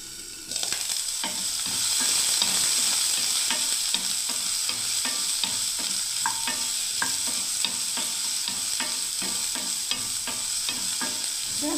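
Eggplant frying in a pan, a steady loud sizzle with irregular clicks and scrapes of stirring, continuous and close, no voices.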